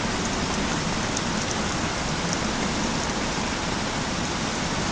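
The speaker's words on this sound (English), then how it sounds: "You can see the rain bouncing off the roof of our neighbor's house." Heavy rain pours steadily onto nearby roofs, a loud, even wash of patter that holds unbroken throughout with no voices.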